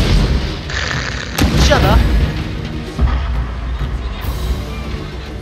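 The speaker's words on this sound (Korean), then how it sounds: "대포 매방 맞아가 부서졌고" Ship cannons boom repeatedly during a naval battle in the video game Total War: Shogun 2, with heavy low blasts and crashing impacts under someone talking excitedly.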